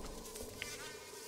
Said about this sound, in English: There's like a bee circling around me.